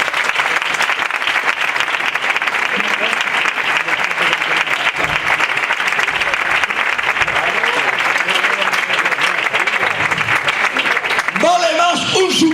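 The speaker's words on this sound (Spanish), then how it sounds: "Denle un aplauso al Señor." Loud, sustained applause from a church congregation filling the room, dense clapping throughout with voices calling out, and a speaking voice rising over it near the end.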